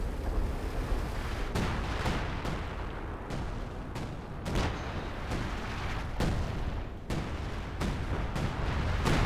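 Mortar artillery barrage in the World War II strategy game Company of Heroes 2, pounding a village centre in a 2v2 match; repeated sharp booming impacts land every second or so over a dense rumbling battle backdrop.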